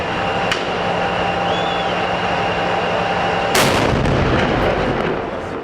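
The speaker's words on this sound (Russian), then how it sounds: "Эти взрывы имеют достаточную мощность, чтобы после нескольких повторений произошел обвал подземного туннеля" A heavy explosion booms in Jobar, Syria, amid wartime fighting, one sharp loud blast cutting through constant rumbling noise, with a fainter earlier thud before it.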